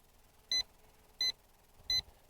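An SG906 MAX Beast 3 drone sounds its obstacle warning: three short, evenly spaced high electronic beeps against a quiet background.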